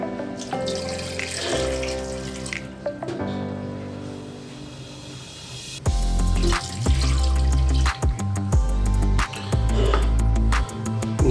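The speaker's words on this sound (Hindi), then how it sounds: "दो अदद कप पानी का ऐड करें इसमें." Water pours steadily into a pot of beef nihari being cooked, a close, continuous splashing rush that deepens and grows louder partway through as more water goes in.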